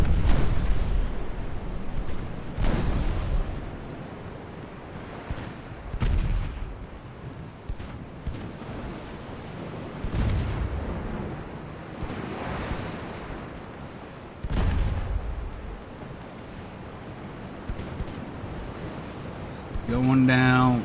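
Naval guns fire shells at an enemy ship in the video game Ultimate Admiral: Dreadnoughts, set in 1890. Repeated heavy booms land every few seconds over a steady wash of sea and wind, with a voice talking.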